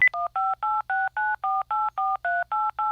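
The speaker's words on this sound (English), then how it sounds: "we're going to get Griff on the phone" A telephone number is dialed, producing about eleven crisp, evenly spaced touch-tone beeps in quick succession, loud and close, with no talking.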